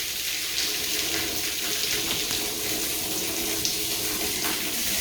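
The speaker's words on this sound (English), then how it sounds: "maybe I'll just let some water run down along that seam" Water runs steadily over a seam on a sailboat's foredeck where it meets the cabin trunk, a constant close splashing trickle with no talk.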